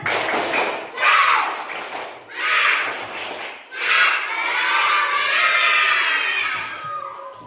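A group of Indonesian children chant a morning clapping chant loudly together in rhythmic bursts, voices rising and falling in unison, with a lively, crowd-like energy throughout.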